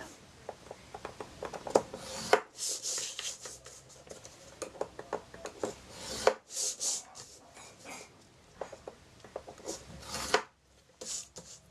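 Paper is scored three-quarters of an inch all the way around to make a playing card box, giving soft, scratchy rubbing strokes in short irregular bursts with brief pauses, quiet and close.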